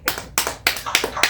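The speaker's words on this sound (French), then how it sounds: "Applaudissons pour les frères et sœurs de Marseille." A church congregation claps in a steady rhythm, five crisp, close claps about a third of a second apart, with no talking over them.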